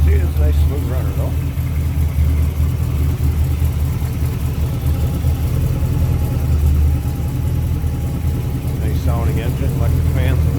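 A 1957 Ford F100 pickup with a 302 V8, electronic ignition and aluminum radiator idles smoothly with a steady low rumble throughout, fairly loud and close, with brief talk over it near the start and end.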